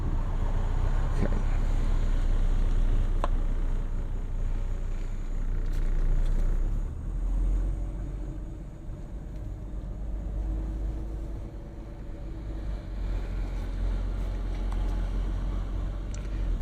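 A Mercedes W140 350SD with a six-cylinder diesel engine drives off slowly, its low, steady engine rumble heard from inside the car along with faint wind and road noise and a few light clicks, with no talking.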